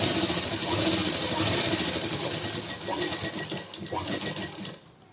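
A sewing machine stitching the sleeve of an unlined blouse, whirring in a continuous close mechanical hum with small surges, slowing and stopping at the end.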